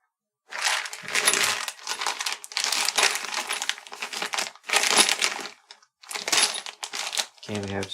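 Screws and small plastic hardware bags for a TV wall mount being handled and shaken, a run of close metallic clinks and crinkles in irregular bursts with brief pauses between them.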